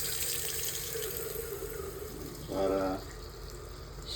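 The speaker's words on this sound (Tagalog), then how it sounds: "kailangan natin i-drain yung lahat ng laman ng tubig" Water draining out of an old dishwasher's supply line after the main valve is shut, a short run of trickling and splashing indoors with a person speaking briefly over it.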